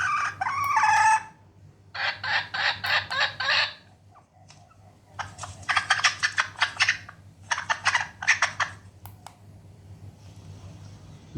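A rooster's cock-a-doodle-doo crowing plays from a remote-controlled chicken call speaker, repeating in several loud bursts with short pauses between and a steady low hum beneath.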